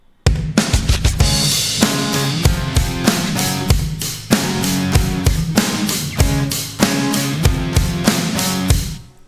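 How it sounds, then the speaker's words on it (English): Electric and acoustic guitars strum chords together over a steady drum beat in a pop production, a dense, loud, rhythmic mix with regular hits throughout and no voices. "This is what both our guitars with the drums sound like."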